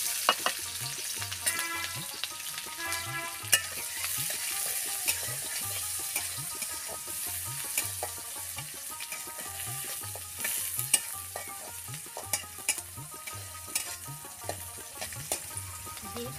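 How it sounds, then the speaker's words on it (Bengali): Chopped onion and green chilli sizzle in hot oil in a kadai while a spatula stirs them in a repeating scraping rhythm, with a steady bright frying hiss underneath and no talking. "তেল গরম হয়ে গেছে, এখন দিয়ে দেবো আমি পেঁয়াজ কুচি আর মরিচ কুচি।"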